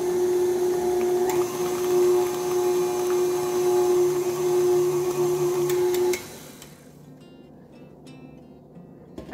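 A steady electric hand mixer whirs with a strong, even tonal hum while beating eggs into butter cookie dough, running continuously for about six seconds before switching off to a quiet room.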